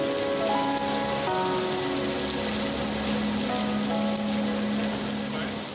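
Steady rain falls throughout, a dense close patter on surfaces with a few faint tonal sounds mixed in.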